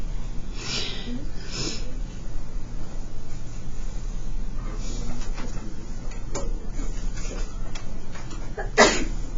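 A single sharp sneeze bursts out early among low background noise, followed by a few faint rustles and a small click.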